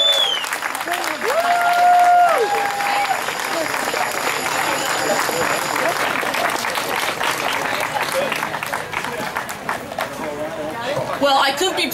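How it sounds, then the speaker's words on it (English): A large crowd at a Pride parade event in Salem applauds loudly and continuously for the mayor, with cheers and a few whistles mixed into the steady clapping. "Without further ado, please give it up for the amazing mayor of Salem, Kim Driscoll."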